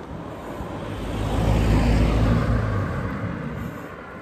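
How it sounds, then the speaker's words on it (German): A car approaches and passes cyclists riding along a quiet road near Stendal, its low rumble swelling to a peak mid-clip and then fading away, with steady wind noise throughout and no talking. "Das ist ein Auto, das uns gleich überholt."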